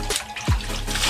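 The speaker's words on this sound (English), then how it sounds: "Can you see how I'm rinsing it?" Water runs over a coily-hair wig during a rinse, a steady wet rush with a brief splash or gurgle midway, close and fairly loud, with no talking.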